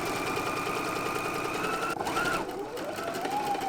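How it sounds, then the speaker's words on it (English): Sewing machine stitching the side seam of a fabric pocket, a steady fast mechanical whirring hum running continuously and close, with a faint brief voice near the end. "And now I'm gonna sew it right sides together along the side of the pocket and down"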